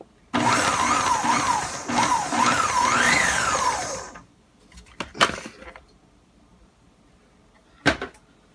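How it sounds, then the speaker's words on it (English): A GeekChef food processor pulses biscuit dry ingredients with a loud motor whirr that runs in a few short bursts and rising and falling pitch for about four seconds, followed by a couple of sharp clunks of the bowl and lid. "Now I'm going to pulse the dry ingredients together."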